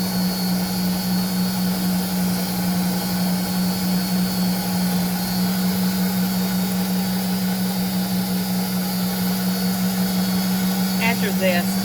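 Electric hand mixer beating lemon cream cheese frosting with extra sugar for cupcakes, a steady loud motor whir running unbroken throughout, with a brief clatter near the end.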